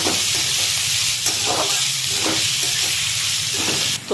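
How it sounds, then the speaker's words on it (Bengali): Chopped onion with green chilli sizzles steadily in hot oil in a pan over a high gas flame, a close, continuous crackle with soft stirring scrapes, no voices. "যতক্ষণ এখানে পেঁয়াজটা ভাজা চলছে"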